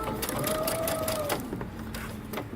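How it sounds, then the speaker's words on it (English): A sewing machine back stitches at the start of a 3/8-inch seam on a dress, a quiet, steady mechanical whir of rapid stitching, close by with no talk. "I'm going to back stitch at the beginning."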